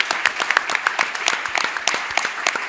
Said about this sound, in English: Big round of applause for our semifinalists.